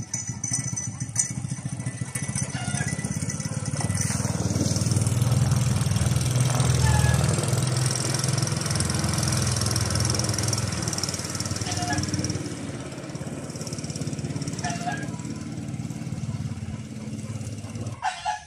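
A fishing boat's low engine rumbles steadily at moderate distance as it comes in to dock on a lake, swelling slightly then easing, with faint background noise and occasional distant sounds.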